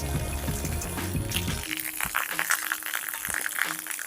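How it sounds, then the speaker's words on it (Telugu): Water pours from an elephant-head shaped spout at the Talakona waterfall, a steady rushing splash that carries on throughout, with rattling clatter near the start. "వాటర్ చూడండి అచ్చం ఏనుగు దంతంలో నుంచి పోసినట్టే ఉందండి"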